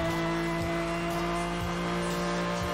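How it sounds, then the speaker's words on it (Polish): A car drifts and skids in Need for Speed: Hot Pursuit Remastered, with a loud, steady engine drone holding through the whole stretch and no voices over it. "I wtedy mamy poślizg."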